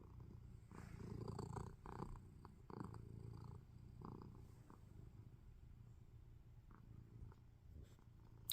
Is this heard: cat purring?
yes